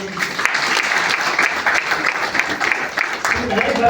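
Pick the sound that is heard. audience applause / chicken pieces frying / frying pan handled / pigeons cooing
audience applause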